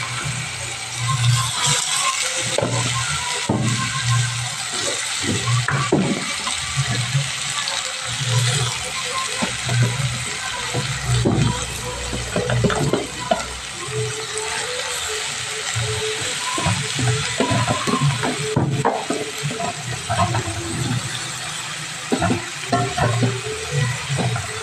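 Chopped bottle gourd dropped into hot oil with whole cumin seeds, giving a steady sizzle and frying crackle with occasional stirring scrapes, up close and continuous while a person talks over it.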